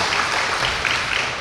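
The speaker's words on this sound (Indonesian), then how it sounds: "Kasih tepuk tangan buat Cici Vina." Audience applause at a Dhamma talk, a brief burst of many hands clapping at steady loudness, close and unbroken.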